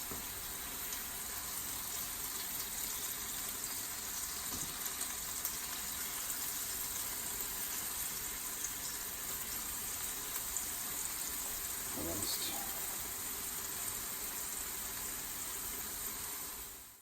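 Lion's mane mushrooms frying in a pan, giving a steady, continuous sizzle with a faint high hiss that stays level throughout and carries no talk.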